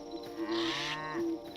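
A cow in the video game Hytale gives a drawn-out, fairly loud moo that rises and falls twice over a steady background hum of game ambience.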